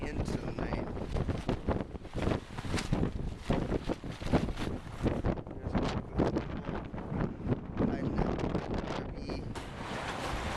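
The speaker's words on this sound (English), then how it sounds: "These winds are supposed to last until probably later tonight, maybe even late into the night." Strong gusty wind in a desert dust storm at a tent camp in Las Cruces, New Mexico, roaring and buffeting the microphone continuously with uneven surges, and a voice is faintly audible in the wind.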